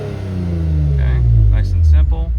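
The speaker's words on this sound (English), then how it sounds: "I'm gonna give it some gas." A Lexus IS300 with a throttle controller in normal mode revs up, a steady low engine drone rising in pitch and loudness, heard close with brief clicks near the end.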